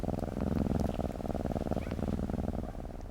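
A big cat purrs close up, a loud, continuous rumbling purr with a steady pulsing rhythm and no other sounds over it.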